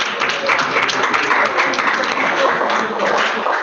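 An audience at a regional Science Olympiad coaches' meeting claps in dense, steady applause for the whole few seconds, close and fairly loud.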